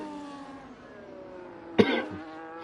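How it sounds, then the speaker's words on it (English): A single harsh cough bursts out near the microphone after a stretch of steady engine-like drone, followed by a brief rough tail. "I do apologise for the persistent coughing."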